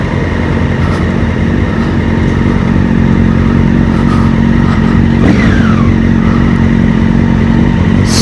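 A loud Honda Hornet motorcycle engine idles with a steady, low throbbing rumble, running continuously throughout, close by.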